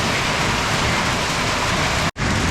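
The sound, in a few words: heavy rain with hail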